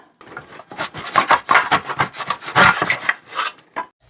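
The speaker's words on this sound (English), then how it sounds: "I guess I'll go ahead and use this little miter box." Small handsaw cutting wood in a little miter box: a close series of rhythmic rasping strokes, about a dozen back-and-forth pulls with no talk.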